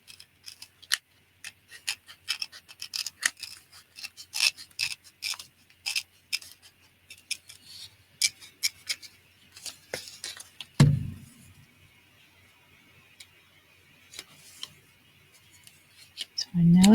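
Stork scissors snipping paper in a run of quick crisp cuts, close and fairly light, followed by a pause and a couple of soft thumps of handling.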